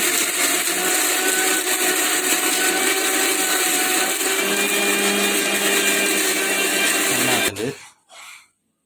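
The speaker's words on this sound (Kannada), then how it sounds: "ಇದು ಗ್ರೈಂಡ್ ಮಾಡ್ತಾರೆ" A mixer grinder grinding chutney ingredients runs as a loud, steady whirring drone that holds for about seven seconds, then cuts off abruptly and spins down, with a brief clatter afterward.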